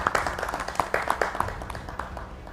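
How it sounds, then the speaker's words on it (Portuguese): Audience applause at a conference on tourism in Mozambique: dense, steady clapping from a crowd fills the short stretch, moderately loud and without speech over it. "Uma salva de palmas para todos nós."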